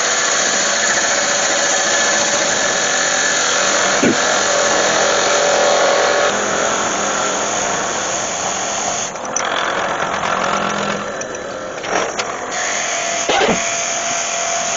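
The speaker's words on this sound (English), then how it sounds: "Nice and sharp, and getting some nice long ribbons of walnut come off of there." A steady, loud whirring hiss of a lathe tool cutting walnut into long ribbons runs throughout, with a few sharp knocks and a brief scraping change near the end.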